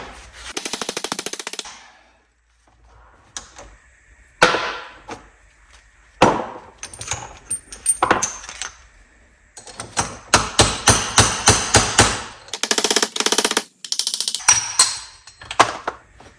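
Metal-on-metal hammering while taking apart a mower deck spindle from a John Deere L130 lawn tractor: sharp, loud, close strikes, first scattered and then in rapid bursts of repeated blows.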